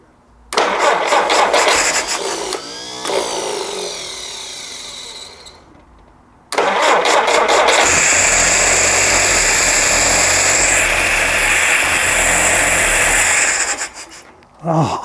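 A rebuilt Jeep CJ5 engine cranks repeatedly with loud, rhythmic starter churning, pauses, then cranks hard again in a long continuous loud run before stopping.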